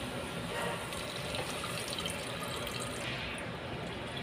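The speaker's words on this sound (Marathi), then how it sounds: "गरम पाणी घालते." Hot water is poured into a pot of dal dhokli, making a continuous soft splashing and gurgling pour that lasts throughout, fairly quiet and with no talking.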